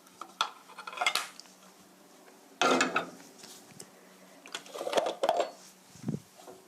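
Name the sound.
spooning leftover syrup over honey-preserved carrots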